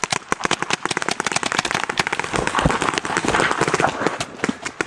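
Paintball guns fire covering fire outdoors, a rapid, loud string of sharp pops from several markers, close and continuous, with a voice briefly heard among the shots.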